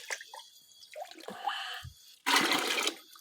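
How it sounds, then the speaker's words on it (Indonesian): Water is poured into a mix of rice-wash water and molasses for liquid organic fertilizer, giving a few gurgling splashes and then a loud rushing pour near the end. "Karena ketika kita masukkan air seperti ini bisa sekaligus mengaduk ya."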